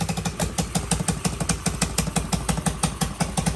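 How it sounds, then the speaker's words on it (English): A Honda CT70K0 motorcycle idles close by with an exhaust leak, its single-cylinder putt-putt beating in a fast, even, chuffing rhythm throughout, with no speech. "Still got an exhaust leak somewhere."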